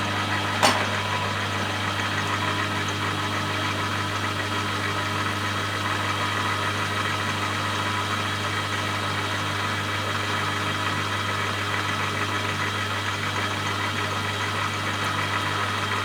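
A Bosch solenoid under repair runs with a steady, continuous mechanical hum and vibration, a low engine-like drone holding evenly throughout after a brief click near the start.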